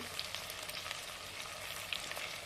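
Tomatoes sizzle and fry steadily in a pan, with soft crackling pops scattered throughout, fairly quiet and with no voices.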